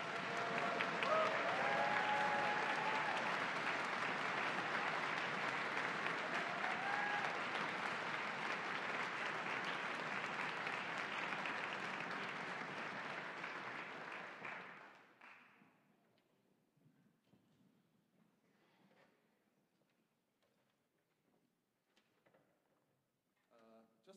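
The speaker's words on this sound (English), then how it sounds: "So this applause is for you." Concert audience applauding a principal saxophonist at a university wind symphony performance, a long, dense, steady wash of many hands clapping for about fifteen seconds, then cutting off into a quiet room with faint scattered rustling.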